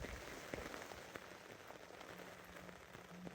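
Heavy rain pelts down on a shelter during shore fishing on the Menai Straits, Anglesey, a dense, constant hiss with scattered patters of drops close by.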